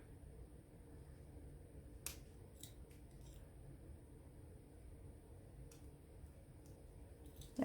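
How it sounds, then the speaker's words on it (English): Scissors snip loose thread tails on a beadwork project, a few faint sharp clicks scattered over quiet room hiss, with a brief louder knock at the very end. "I am going to trim these tails off just a smidge"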